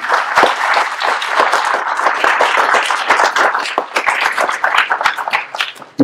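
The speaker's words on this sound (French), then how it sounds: "On peut l'applaudir." Lively, continuous applause fills a hospital's New Year greetings gathering as an honored guest is welcomed, dense and close throughout with a sharp clap at the very end.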